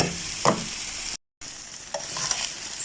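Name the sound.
stir frying leftover chicken in a pan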